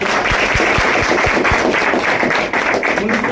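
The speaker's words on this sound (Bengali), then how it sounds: "সবাই হাততালি দিয়ে" A crowd claps for a newly elected leader of a volunteer party group, giving a few distinct heavy claps and then scattered applause under loud ongoing background noise.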